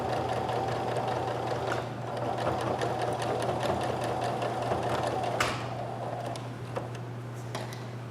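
A sewing machine edge-stitches a sweatshirt pocket with a fast, even mechanical chatter up close that runs steadily and then eases off near the end, with no talk.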